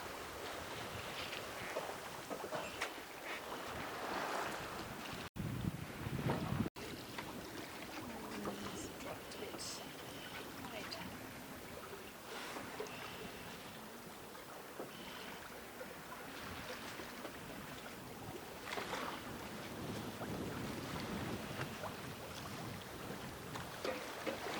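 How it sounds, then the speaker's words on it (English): A sailboat runs under sail in calm, easy conditions on open sea off Croatia, with steady wind rush and water hissing along the hull throughout, a few soft voices briefly audible beneath. "This is what's called champagne sailing."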